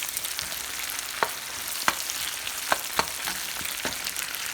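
Onions frying with ginger garlic paste while being stirred, a steady hiss of sizzling oil punctuated by several sharp utensil clicks against the pan, close and alone.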